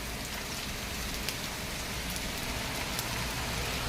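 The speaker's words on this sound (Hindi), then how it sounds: "पानी झमाझम गिर रहा है" Heavy rain pours steadily, a dense hiss of drops hitting surfaces with occasional sharper splats.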